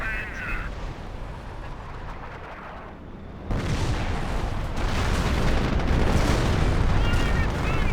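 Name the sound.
Panther tank firing in Company of Heroes video game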